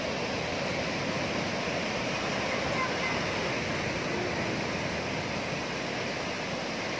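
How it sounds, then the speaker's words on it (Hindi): Ocean waves breaking on a seashore make a steady, full roar of rushing surf that holds for the whole stretch without pause, loud and close. "कभी समुंदर शांत नहीं रहता, ये देखो कितनी प्यारी लहर बनती है, पीछे से पानी उठता है"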